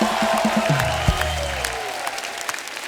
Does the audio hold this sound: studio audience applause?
yes